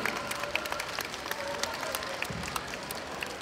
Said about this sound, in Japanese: 会場の皆様、大きな拍手をお送りください。